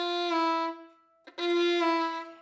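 Violin playing a sustained, bright passage from Monti's Czardas, a held tone cut off, then a quick half-step shift back and the melody resuming, close and clear with no talking.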